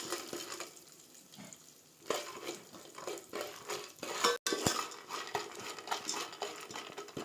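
Popcorn frying in butter in a pan in a home kitchen, a steady close sizzle with scattered sharp pops and clinks of a utensil against the pan, growing busier partway through.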